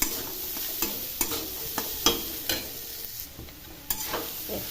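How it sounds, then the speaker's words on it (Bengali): A spatula stirs paneer with carrots, vegetables, cashews and raisins in a frying pan, giving a soft continuous sizzle broken by regular sharp scrapes and clicks about every half second. "পনিরটাকে দিয়েছি, মিশিয়ে নিই।"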